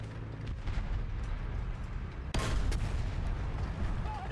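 A Finnish tank's cannon fires in a tank video game, one sharp loud blast partway through followed by a rumbling decay over steady engine drone.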